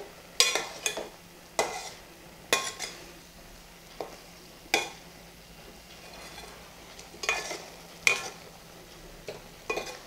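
Anchovy avial, Kerala style, stirred lightly in a pan: scattered soft scrapes and clinks of a utensil against the pan at irregular intervals over a faint steady background, close and fairly quiet, no talking.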